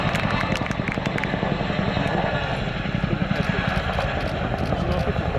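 A 15-ton display helicopter pulls backwards out of a hover into an over-the-shoulder departure at an airshow, its rotors beating in a steady, pulsing thrum that stays loud and close throughout.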